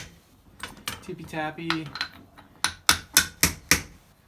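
A light hammer taps on a mud-caked motorcycle fork collar, five sharp, evenly spaced metallic knocks, close and clear, following a few softer sounds.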